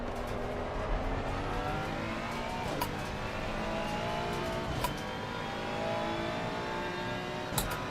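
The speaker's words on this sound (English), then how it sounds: "The old dump valves and the turbo whistling." Race car engine in Assetto Corsa Competizione at Kyalami, with turbo whistle and dump valve bursts, drones steadily and loudly throughout, with sharp chirps near the start, middle and end.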